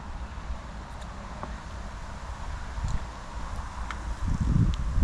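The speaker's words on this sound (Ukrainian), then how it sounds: "Ой, вітер." Steady wind blowing against the microphone while pike fishing with a spinning rod in autumn, a low broadband rumble with gusts that swell louder toward the end, with faint rustling.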